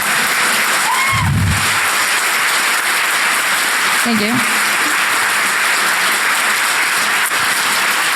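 Audience clapping after a hacking conference talk, a broad steady wash of applause filling the room while a voice briefly speaks over it.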